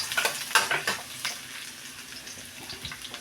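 Garlic sizzling and frying in a small amount of oil in a pan, with a quick burst of crackle and stirring near the start that settles into a steady, softer sizzle.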